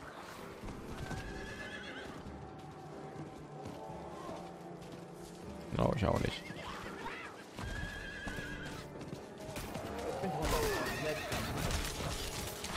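A horse in Diablo IV neighs and clip-clops at a gallop, with a loud whinny about midway. Game sounds and effects run throughout under occasional talk.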